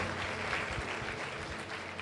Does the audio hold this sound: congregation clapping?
yes